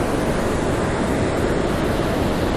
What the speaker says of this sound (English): Oh man, that's a huge wave over there.